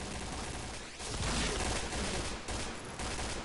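Gunfire in a video game bursts in a dense, continuous rattle of rapid shots, loud and close, with a brief dip before the firing swells again, no voices over it.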